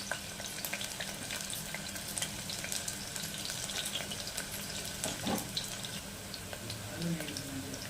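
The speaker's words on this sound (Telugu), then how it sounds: "ఉల్లిపాయ వేస్తున్నామండి." Onions dropped into hot oil in a pan for a potato and pea curry, crackling and sizzling steadily with scattered pops and a brief stirring scrape, accompanied by some faint voice.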